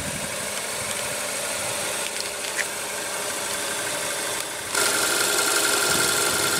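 A 2015 Kia Soul's 2-liter 4-cylinder engine idles with a steady, even hum and slight vibration, rising a touch louder partway through.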